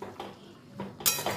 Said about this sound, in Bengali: কিছুক্ষণ পর আমি ঢাকনাটা খুলে নিলাম।